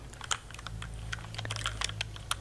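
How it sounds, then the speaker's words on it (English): Quick, uneven clicks of fingers typing on a computer keyboard in a quiet room, close and soft, with short bursts of keystrokes and brief pauses between them. "And then I will be typing"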